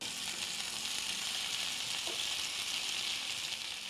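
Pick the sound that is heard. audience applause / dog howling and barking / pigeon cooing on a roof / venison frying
venison frying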